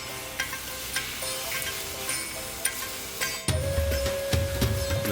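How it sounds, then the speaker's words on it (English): Spices toasting in an oiled pot for chicken tikka masala, a steady close sizzle with regular scraping stirs and light clinks, swelling into a louder, fuller fry near the end. "We're going to toast these spices off for about a minute"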